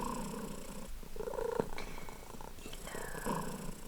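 A cat purrs close by in a soft, rhythmic rumble, with a few faint squeaky mews breaking through the steady vibration.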